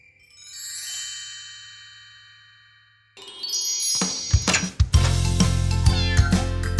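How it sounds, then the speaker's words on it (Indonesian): A cartoon kitten meows and cries in a children's nursery song, the meows drawn out over a soft tinkling backdrop before a loud burst of bright music and chimes takes over. "Anak kucing hilang sarung tangan dan mulai menangis."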